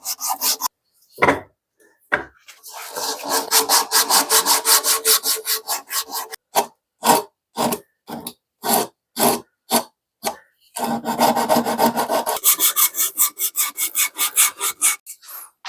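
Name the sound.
sanding wood with 80 grit abrasive strip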